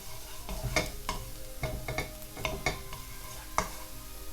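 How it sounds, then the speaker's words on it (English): Garlic sautés in hot oil for a spicy tomato penne arrabbiata, a soft continuous sizzle broken by repeated sharp scrapes and clinks of a utensil stirring in the pan, close up with no talking. "once your oil is hot, what you need to do is you add your garlic. Saute it a little bit."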